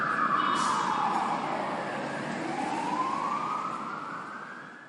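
An emergency vehicle siren wails loudly, one long falling-and-rising sweep that fades slightly toward the end, with no voices.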